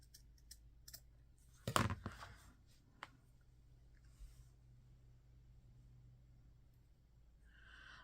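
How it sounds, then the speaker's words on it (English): Scissors cut fabric into a petal shape, giving a few soft, close snips and one sharper crunchy cut against a quiet room, with longer silent stretches between them. "I'm going to try to cut this and make it look somewhat like a petal."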